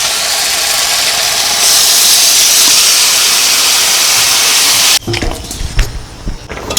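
Water poured into hot oil with a fish curry of large kan magur catfish sets off a loud, steady sizzling hiss that goes on for about five seconds, then breaks into bubbling, clattering stirring noises in the pan.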